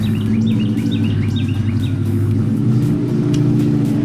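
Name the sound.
passing Ford car engine, sounding like a Mustang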